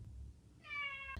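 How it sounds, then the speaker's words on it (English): A domestic cat gives a single short, soft meow over a low indoor rumble, ending with a faint click. "And that was my cat."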